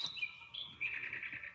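A small bird gives quick, bright chirps and trills, faint in the background of a quiet indoor space with no one talking.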